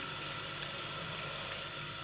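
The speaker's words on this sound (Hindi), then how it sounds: "अब हम इसमें डालेंगे अच्छे से पानी।" Water pours steadily into a pan of peas being readied for cooking, a continuous close, even rushing and splashing that fills the whole stretch without talk.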